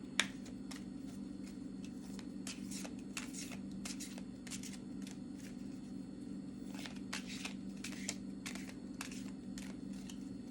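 A Higher Intuition Oracle card deck shuffled by hand, soft, close riffling and flicking bursts in irregular clusters over a low steady room hum, with no talking.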